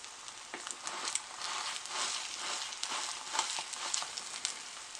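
Eggs fry in a hot pan for a ham and egg breakfast sandwich, giving a steady, close crackling sizzle with scattered sharper pops throughout.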